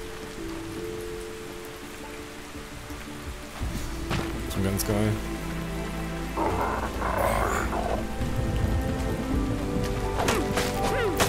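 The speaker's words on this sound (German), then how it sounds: "Und es fängt an zu regnen." Rain falls steadily in the video game Ark Survival Ascended, a continuous hiss of drops with occasional thuds and knocks. Someone speaks briefly over it.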